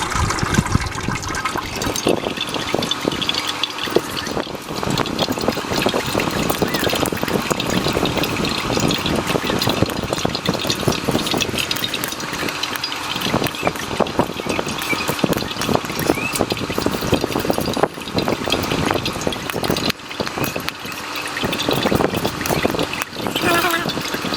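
Tamarind water pours and trickles through a kitchen sieve in a steady, continuous splashing stream that runs nonstop for over twenty seconds.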